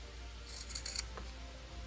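Scissors make a quick cluster of crisp snips while trimming fabric for a sewing project, faint and close, over a low steady room hum.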